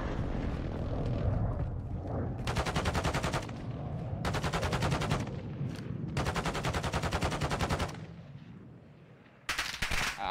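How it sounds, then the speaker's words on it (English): Long-range gunfire in a military video game: rapid automatic bursts of shots, loud and close, in several sustained volleys separated by brief pauses over a steady low rumble of battlefield ambience. "just shooting my gun really long range"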